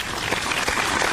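Steady applause from a studio or event audience fills a short stretch, dense and even with no distinct voices on top.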